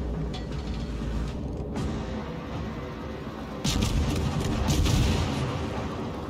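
Warship main guns fire a volley in the World of Warships game, with the Tier V cruiser Omaha in a co-op battle; a steady mechanical rumble gives way to a loud, sustained booming burst partway through.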